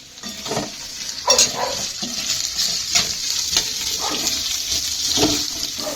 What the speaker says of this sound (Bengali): এটা ভাজা হয়ে যাক পেঁয়াজটা